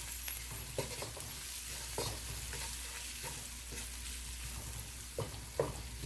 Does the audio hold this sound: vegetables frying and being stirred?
yes